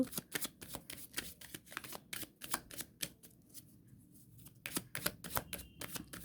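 Oracle-style card deck, an Osho deck used for tarot-like readings, being shuffled by hand in repeated crisp riffling bursts with a short pause midway, close and fairly quiet with no voices.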